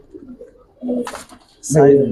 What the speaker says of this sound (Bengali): এই দুই জোড়া চিলা কবুতর